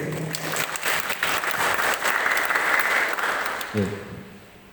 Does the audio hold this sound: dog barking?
no